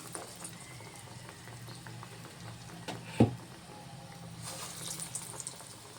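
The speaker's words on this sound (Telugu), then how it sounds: "ఆయిల్ వేడైందండి. ఇప్పుడు నేను గారెలు వేసుకుంటున్నా." Bobbarlu garelu, lentil fritters, fry in hot oil with a soft bubbling sizzle. It swells slightly near the end, and one brief clack of a utensil comes midway. No one speaks.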